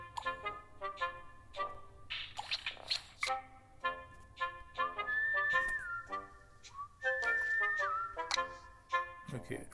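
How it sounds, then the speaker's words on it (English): Melodic whistling to sheep in a mobile video game, in short tuneful phrases with some sliding notes, fairly close and clear, over a soft steady background hum. "I'm gonna drag the whistle card."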